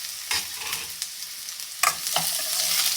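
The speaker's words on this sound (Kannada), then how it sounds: "ನೋಡಿ ಇವಾಗ ರೆಡ್ ಕ್ಯಾಪ್ಸಿಕಮ್ ಹಾಕ್ತಾ ಇದ್ದೀನಿ ನಾನು" Red capsicum stir-fried in a pan for paneer fried rice, a soft sizzle under a few clinking spatula strokes and scrapes, close and brief with no voices.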